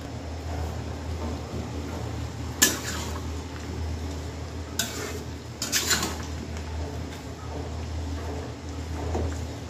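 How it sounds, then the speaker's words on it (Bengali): A spoon stirs chicken curry in a pot on a stove, giving a few scattered scraping clinks against the metal over a low background hum, with a short cluster of sharper scrapes near the middle. "একটু নেড়ে দিই।"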